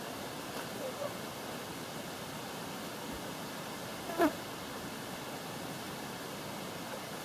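Fresh water flowing along a shallow creek produces a faint, steady broadband rush that stays even throughout, with a single brief louder splash partway through and no speech.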